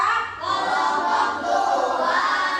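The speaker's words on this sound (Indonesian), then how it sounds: "Oke, tepuk tangan" Applause from a classroom or workshop audience for a presenting group, a steady broadband patter that swells, dips briefly, then rises again across a couple of seconds without speech.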